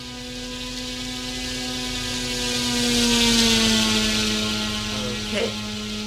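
Simulated P-51 propeller aircraft engine in the RealFlight 9.5 flight simulator, a steady droning hum with a strong low tone that swells slightly louder midway and then eases, continuous and fairly close.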